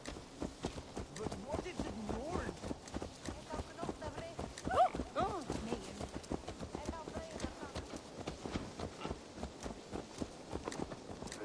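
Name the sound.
horse hooves in a video game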